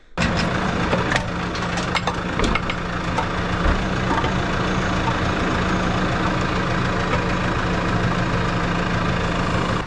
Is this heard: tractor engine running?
yes